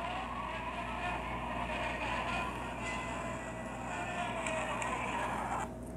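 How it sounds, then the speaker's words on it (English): Initial D arcade racing game playing in an arcade, a steady engine-like roar with a constant low hum and faint higher whines, heard at a distance. "I was racing Initial D while that was recording"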